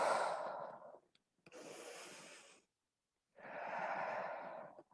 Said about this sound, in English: Deep breaths as you move.